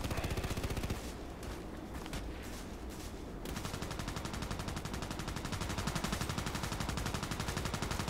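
Loud, continuous rapid gunfire in a shooting video game on the Interchange map, dense automatic bursts running almost unbroken, with a brief slightly thinner stretch partway through.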